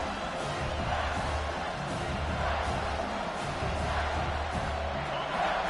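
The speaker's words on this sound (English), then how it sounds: "This crowd is trying to inspire this defense to make a big red zone stop." A large college football stadium crowd roars steadily as the defense tries for a red zone stop, a dense wall of cheering and noise with voices mixed in, sustained without a break.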